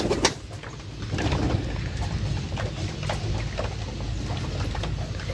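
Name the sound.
pigeons and doves cooing in a coop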